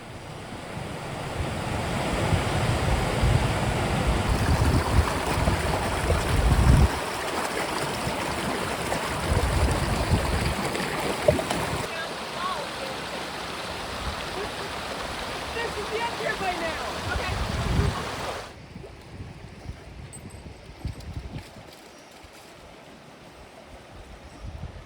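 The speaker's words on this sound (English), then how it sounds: "It's another waterfall with a fish ladder." Constant roaring rush of a waterfall with a fish ladder fills the scene, broad and loud, with gusts of wind against the microphone before it drops to a quieter wash.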